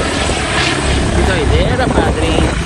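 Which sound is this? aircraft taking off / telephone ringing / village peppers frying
aircraft taking off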